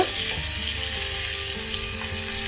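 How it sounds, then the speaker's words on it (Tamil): Chicken pieces fry in a pan with browning onions for a Palakkad-style chicken varuval, giving a continuous, even sizzle and crackle close up, with no voices. "இப்போ சிக்கன் நமக்கு நல்லா பொரிஞ்சு வருது"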